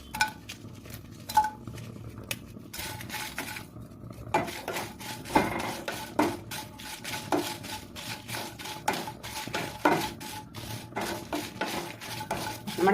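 Dry red chillies roasting in a pan for sambar powder, stirred with a spoon: a dense run of scraping, rattling stirs and light metallic clinks against the pan, close and continuous with no talking.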